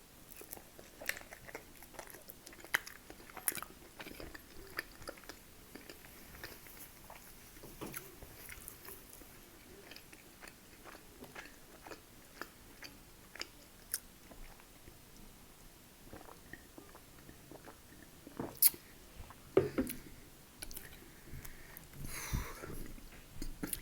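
Slices of Etna pizza with Coralicious sauce being eaten up close, with soft, irregular chewing and biting sounds going on throughout and occasional louder crunchy bites, all quiet and without talk.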